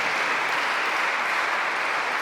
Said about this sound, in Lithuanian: Tai va, visiems plojimai, visiems chorai.